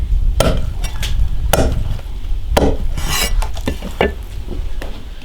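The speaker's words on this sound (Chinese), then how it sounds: "先把那个脚爪子剁掉" Heavy cleaver blows chop the clawed feet off two crocodile legs on a cutting board, a series of sharp, loud thuds spaced irregularly, up close and without talk.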